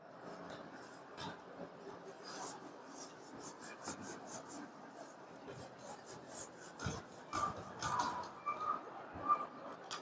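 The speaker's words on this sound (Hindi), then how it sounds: "मैं इसको रब कर रहा हूँ।" An eraser rubs across a board during a maths lesson, making a quiet, continuous scratchy rasp with quick repeated strokes and small knocks.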